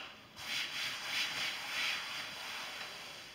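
Cloth rubbed over wood to strip away leftover glue while building a custom wall-mounted TV bracket: three soft, rhythmic scrubbing strokes, close and fairly quiet, with no talking.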